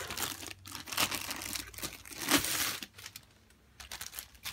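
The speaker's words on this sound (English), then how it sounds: "I'm gonna cut this one because it's much better than just ripping it off" Diamond painting kit packaging being cut open, giving close crinkling and crackling of plastic wrap in short bursts with brief pauses, fairly quiet and with no voices.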